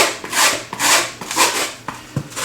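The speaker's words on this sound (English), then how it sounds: "I'm just gonna sand around the edge." Coarse sandpaper, about 80 to 100 grit, rubbed around an edge in rhythmic back-and-forth strokes, close and loud, each scratchy pass swelling and fading with no talk.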